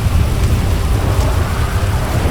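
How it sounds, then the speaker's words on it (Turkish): Rain begins falling steadily and loudly close by, a dense, even hiss of drops with a low rumble underneath and no voices. "Aha yağmur da başladı bak yağmur başladı."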